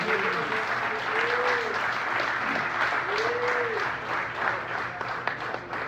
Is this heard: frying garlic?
no